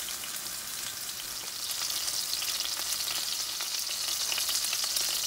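Sirloin steak sears in a cast iron pan with a steady, close sizzle that swells slightly louder partway through, the hiss continuous and crackling with no talking over it.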